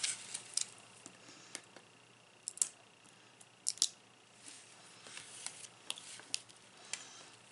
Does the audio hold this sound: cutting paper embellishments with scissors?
yes